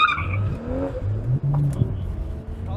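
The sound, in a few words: car spinning out with tires skidding during driving class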